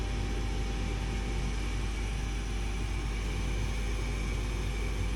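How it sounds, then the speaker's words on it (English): A furnace blower runs steadily with no gas burning, giving a constant broadband whoosh and low rumble with no break, close by and with no talk. "That's the blower, but it's like there's no gas."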